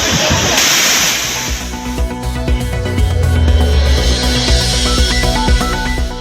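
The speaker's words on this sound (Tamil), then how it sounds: "குற்றால அருவிகளில் 2ஆம் நாளாக வெள்ளப்பெருக்கு." Floodwaters pour down the Courtallam waterfalls, making a loud, continuous rushing roar that carries on steadily as a musical news bed plays over it.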